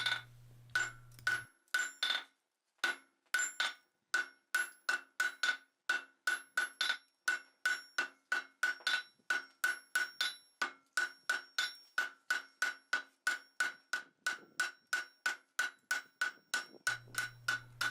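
Steel bar being necked down to round under a hammer on an anvil, a long steady run of sharp ringing blows at an even rhythm, close and clear with brief pauses and a faint low hum at the ends.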